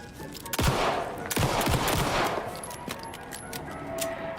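Gunfire in the video game Alan Wake 2 comes as a few loud, booming shots with echoing tails, followed by scattered fainter clicks and clatter, with no voices.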